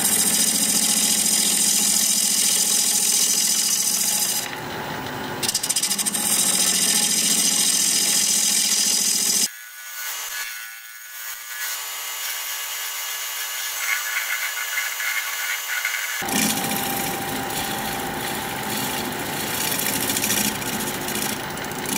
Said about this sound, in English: I'm going to come back here and work it down a little bit. I'm going to do that with a half inch gouge